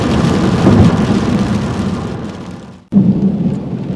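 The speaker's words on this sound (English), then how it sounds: "it is still raining and thundering and lightninging" Heavy rain pours steadily during a thunderstorm near Baltimore's Inner Harbor, with loud thunder rumbling through it; a brief dropout near the end, then the downpour and rumble resume, close and dense.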